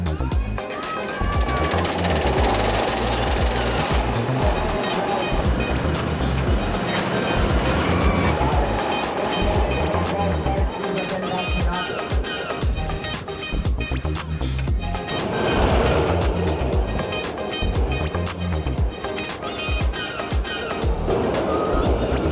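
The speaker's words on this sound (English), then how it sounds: "Okay, so I just rode my first single rail" A single rail roller coaster at Six Flags Great Adventure roars along its track in a loud, continuous rattling rumble with rushing wind, and riders' voices rise in bursts over it.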